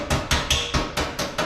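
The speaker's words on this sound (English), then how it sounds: "I flattened it out with hammer and dolly." A hammer and dolly flatten a sheet-metal radiator cover for a Mustang restomod: seven sharp metallic strikes land in a quick, even rhythm, close and loud.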